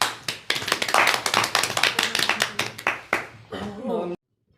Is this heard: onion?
no